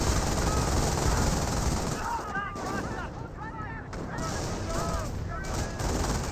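Bursts of MG42 machine gun fire in the Company of Heroes strategy game, rattling under a continuous battle din with other gunfire, while a commentator talks over it.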